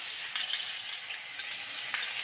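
Onion paste frying in a pan makes a soft, steady sizzling hiss, with a few faint scrapes of stirring, close and quiet.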